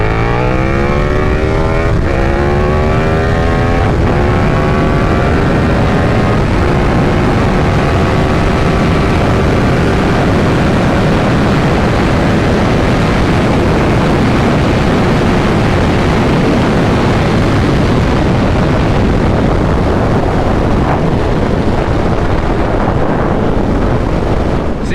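A stock 2022 KTM 1290 Super Duke R motorcycle accelerating hard from 60 to 130 mph, its engine note climbing through rapid gear changes under loud, constant wind roar that dominates the whole run.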